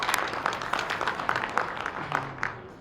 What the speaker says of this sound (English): So if we can give him a round of applause, everyone.